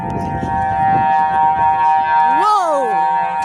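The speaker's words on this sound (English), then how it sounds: "nobody's going to play a tornado siren at 10 in the morning" Tornado siren going off in town on a weekday morning, a steady wailing tone that swells and sweeps down near the end, loud and constant with voices and background noise beneath it.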